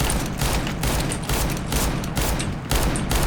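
Revolvers fire in Counter-Strike: Global Offensive on the Mirage map: a rapid series of loud, sharp shots in regular bursts, overlapping into a dense volley.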